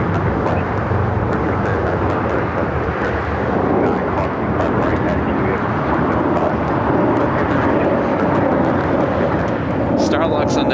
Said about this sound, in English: I do see a Delta A350-900 sneaking around the corner